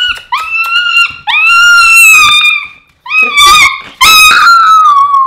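A dog gives four loud, drawn-out howling yowls close by, each rising then wavering in pitch, with short pauses between.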